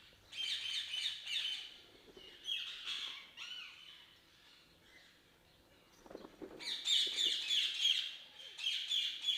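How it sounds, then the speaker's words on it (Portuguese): Ringneck and Alexandrine parakeets call inside an aviary at an exotic bird breeder in Brazil, shrill squawks and chirps coming in bursts, louder at the start and end with a quieter stretch between. "Esse recinto aqui são dos ringnecks e dos grandes Alexandre."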